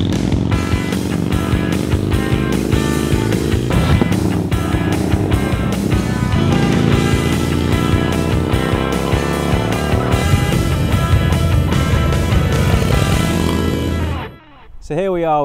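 A Hesketh 24 motorcycle is ridden hard, its loud engine note repeatedly climbing through the revs and dropping at gear changes before fading out at the end.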